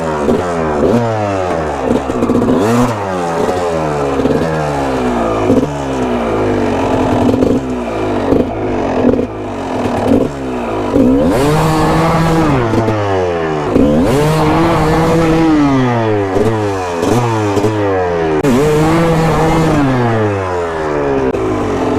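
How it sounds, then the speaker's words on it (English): A Kawasaki KX450X dirt bike on single track revs hard in repeated rising and falling bursts as the rider dumps the clutch to pop a wheelie, loud and close with no talk. "Now dump the clutch and just pop the wheel up"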